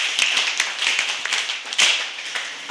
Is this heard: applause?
yes